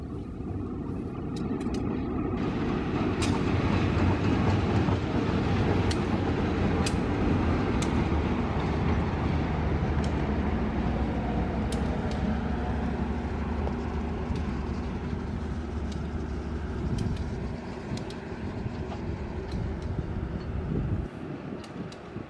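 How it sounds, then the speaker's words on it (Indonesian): A local Bandung Raya train stands on the straight track 2 at Cimekar station, its locomotive engine giving a steady, loud low rumble and drone throughout, with faint sharp clicks and knocks over the top. "Kereta api lokal Bandung Raya saat ini sudah berhenti di jalur 2, jalur lurus stasiun Cimekar."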